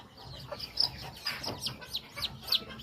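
Newly hatched Chabo bantam chicks in benjarong color peep and cheep in quick repeated high chirps, close and fairly busy, with soft low clucking from the hen underneath.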